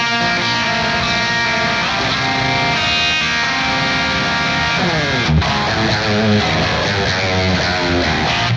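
Distorted electric guitar strums the pre-chorus chords of a song, a loud, continuous wash of overdriven chords with shifting voicings, played alone with no voices.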